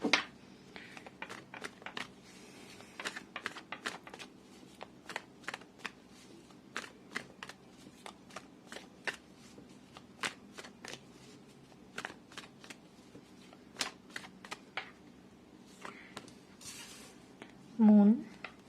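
Tarot cards being shuffled by hand in many quick crisp riffles and flicks, close and fairly soft, continuing for a long stretch, with a brief louder rustle near the end.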